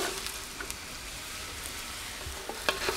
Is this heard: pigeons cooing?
no